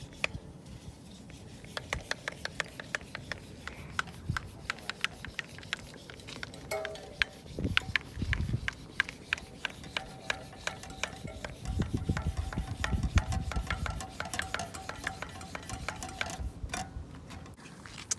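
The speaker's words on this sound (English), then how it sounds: "I'm going to pump it up" Mountain bike tyre inflated with a hand pump at the roadside, heard close as a run of quick, rhythmic rasping strokes that grow denser and louder in the second half, with no talking.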